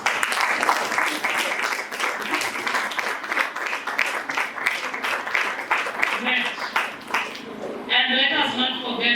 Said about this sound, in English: you keep on clapping for like 1 minute